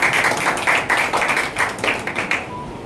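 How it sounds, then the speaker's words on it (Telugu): Audience clapping at a press club's hundred-day anniversary celebration in Tirupati, a steady patter of many hands over nearly three seconds that thins out and stops near the end, with no talk over it. "Claps claps."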